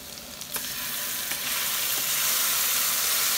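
Soybean paste hits hot chili oil with ginger and scallion and is stirred, a loud, dense sizzle that swells and stays steady, punctuated by a few spatula scrapes.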